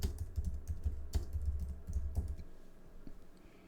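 Computer keyboard typing while entering a report label in a spreadsheet or database exercise: a quick run of close, light key clicks that thins out toward the end.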